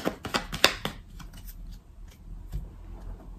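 Tarot cards shuffled and drawn at a table: a quick cluster of crisp riffling snaps and flicks at the start, then softer sliding and a single faint tap, close and quiet.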